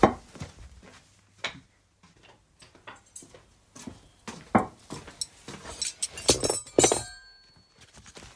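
Plates and cutlery clinking and clattering as barbecued sausages are served up, a run of sharp irregular ticks and clinks, close by, growing busier and louder toward the end, with no voices.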